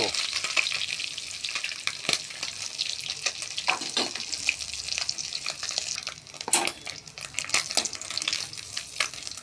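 Small puti fish fry in hot oil with a busy crackling sizzle, punctuated by sharp spatters and scraping stirs close up, without any talking.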